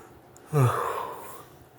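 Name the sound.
person yawning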